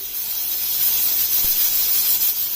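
A pressure cooker boiling corn lets off a steady, loud hiss of escaping steam that carries through the whole short clip with no pauses.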